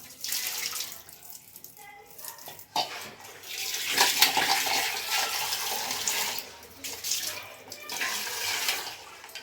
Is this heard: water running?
yes